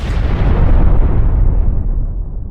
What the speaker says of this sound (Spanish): una gran explosión de un fuego abrasador que había consumido todo el edificio se había hecho presente